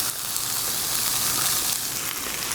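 Peppers and onions frying with bacon in a pan for a diner-style omelet, giving a steady, close, dense sizzle with crackling hiss that holds at an even level throughout, with no talking.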